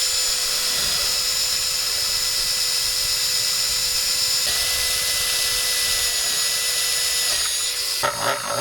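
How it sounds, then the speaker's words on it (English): Power drill boring through material with a very large bit, likely while building seagull scarers: a loud, steady high-pitched whine held for several seconds, changing pitch partway through and breaking off into rattling near the end. "So I'm going to try and drill with this"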